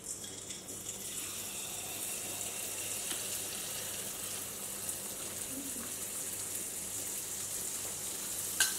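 Handi kavum batter fries in hot oil, giving a steady, soft, even hiss and crackle that runs the whole time at low volume.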